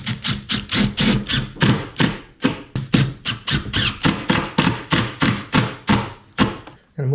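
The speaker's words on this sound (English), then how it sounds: "I'm putting two nice big screws in here." Big screws going into a wooden bulkhead aboard a wooden boat, heard as a fast, steady series of sharp, close knocks and taps repeating throughout with no talking.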